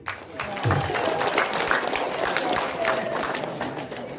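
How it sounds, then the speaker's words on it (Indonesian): Applause and cheering from a church gathering honoring priests, a steady mass of clapping with crowd voices throughout, moderately loud and continuous. "tepuk tangan dan sorak-sorai ini"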